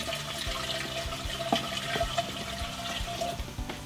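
Distilled water pours steadily into a pot for a compressor wash on a Piper Meridian's PT6A-42A turbine engine, a continuous close splashing rush with a few small clunks, no talk over it.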